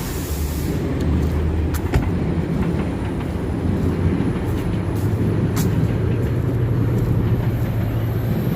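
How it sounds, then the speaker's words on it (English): A train rolls past in the city with a steady, fairly loud rumble and faint rail clatter over about eight seconds, with no voices. "Train's going."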